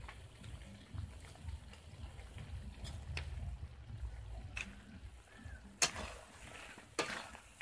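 Spice paste sizzles and is stirred in hot oil in a pan, a steady low frying hiss with occasional spoon scrapes and a couple of sharper clinks, close and moderate.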